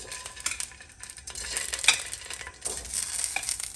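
Clams and chorizo sizzle and crackle in a hot pot, bursts of frying hiss with a few light metallic stirring clinks, close and fairly quiet with no talk.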